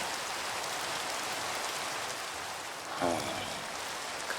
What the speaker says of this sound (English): well, now I need the rain to stop.